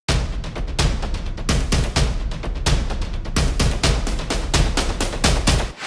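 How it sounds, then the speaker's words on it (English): A drum build sample for a future bass track hammers out loud, punchy hits in steady repeated bursts, close and dense, with no voices over it. "Add a drum build from my sample pack."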